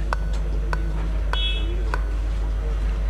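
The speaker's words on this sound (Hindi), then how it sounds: "इसमें 5 बीप का एरर दे रहा है।" A dead Dell Inspiron 3521 laptop on a repair bench sounds a short electronic beep error code, several sharp evenly spaced bleeps over a steady low electrical hum, close and clear.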